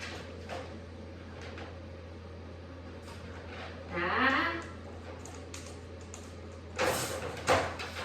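A dog crate door closes during a dog training session: a soft sliding scrape partway through, then a quick cluster of clattering knocks near the end, fairly faint against a steady low room hum, with no talk.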